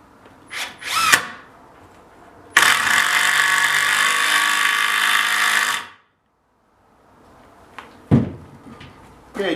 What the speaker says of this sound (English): just hold it reasonably square and then drill your hole